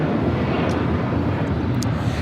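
A United Airlines Boeing 757-300 takes off from Los Angeles airport, a steady low rumbling roar of jet engines with no sharp events, heard at a moderate distance.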